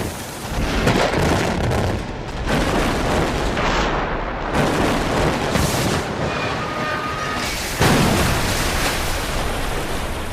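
Explosive demolition of a bridge: a series of loud, heavy booms and rolling blasts that fill the air with thunderous rumble, surging and fading in waves before another burst.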